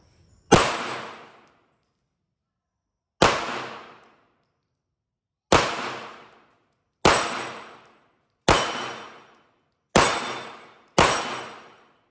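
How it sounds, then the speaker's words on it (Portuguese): Seven sharp pistol shots from a Girsan MC 1911 in 9mm, fired outdoors at a target, spaced unevenly a couple of seconds apart, each loud crack trailing into a short decaying echo, with no talk between them. "Vamos dar os disparos para ver o que vai acontecer."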